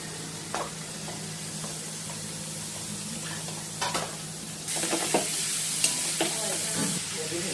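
Shredded cabbage hits hot oil with sautéed ginger, garlic and chillies for momo filling, giving a steady close sizzle with occasional stirring scrapes that grows louder partway through.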